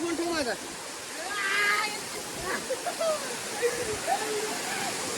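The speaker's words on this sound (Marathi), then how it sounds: "खूप खूप पाऊस पडतोय" Heavy monsoon rain pours down with water rushing off a hillside ledge in a village, a steady loud broadband roar filling the whole stretch while voices talk and call over it.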